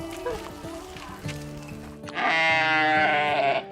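A sheep bleats loudly and close by in Nieu Bethesda, Eastern Cape, a long wavering cry following some quieter bleats and background rustle.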